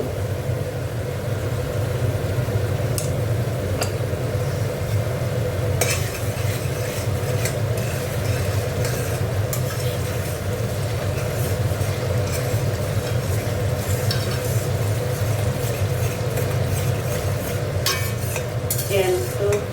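Spice paste stir-fried in a pan for a rohu fish curry, a steady loud sizzle with continuous scraping and stirring of a utensil against the metal, close up throughout.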